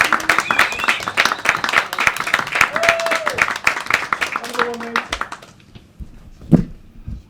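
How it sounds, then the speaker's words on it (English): A comedy club audience claps, whoops and cheers for several seconds as an act is welcomed to the stage, with dense applause and high whistle-like whoops before the noise dies away to near quiet. "Clap, whoop, cheer, welcome to the stage."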